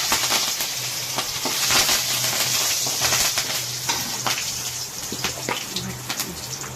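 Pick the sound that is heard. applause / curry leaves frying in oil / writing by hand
curry leaves frying in oil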